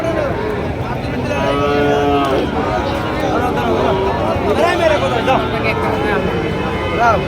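Several Sahiwal and Gir cattle low and moo close by amid a constant din of crowd chatter and people talking at a busy livestock market.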